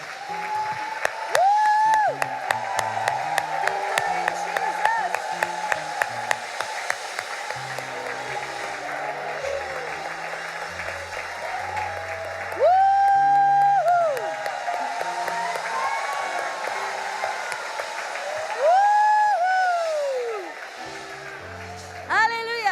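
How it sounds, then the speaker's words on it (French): A church congregation applauds during a service in several bursts of clapping, separated by stretches of music with a voice speaking over it. "Applaudissons le Seigneur Jésus ce matin."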